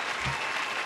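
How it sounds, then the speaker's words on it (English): A studio audience claps steadily in a short, even burst of applause, dense and fairly quiet, with no voices over it. "I know the applause, I love it."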